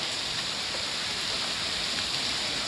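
Heavy typhoon rain pours steadily outside a condominium amid flooding, a dense, continuous hiss of water close by with no letup and no talk.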